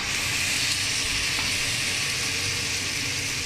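Sliced pork shoulder sizzles loudly and steadily in a hot pan, a dense continuous hiss and crackle with faint stirring, and no one speaks.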